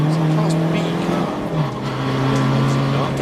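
The Rob Fennick BMW M2 race car drives at Snetterton in a 750MC Roadsports race, its engine a steady droning note that dips and climbs as the gears change, with trackside commentary running over it.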